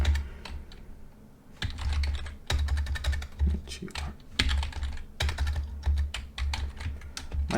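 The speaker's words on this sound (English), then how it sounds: "you just go open the terminal, type .net ef" Typing on a computer keyboard while entering a command in a terminal: rapid clusters of close, crisp key clicks in uneven bursts with brief pauses, fairly loud and alone.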